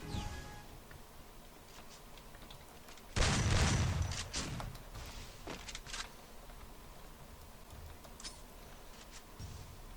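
Shotgun gunfire in the Free Fire battle royale game, one loud close blast with a short follow-up shot, then quieter game ambience.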